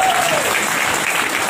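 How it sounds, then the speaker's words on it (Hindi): Loud, dense applause from an audience at a business event in India, honoring a company mentor, a steady wash of many hands clapping throughout. "इस कंपनी के महागुरु जैमिन सर के लिए जोरदार तालियां दोस्तों"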